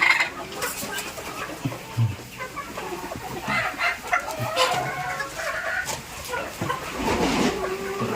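Hens clucking inside an egg-laying coop on a small poultry farm, a busy chorus of overlapping clucks and calls at moderate distance, with scattered rustling and a steady background hum.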